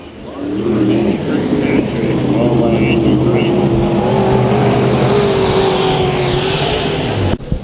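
Modified race cars in a heat race at Santa Maria Speedway, a dirt oval, their engines roaring and revving loudly together in a dense, continuous drone with rising and falling pitch, ending abruptly.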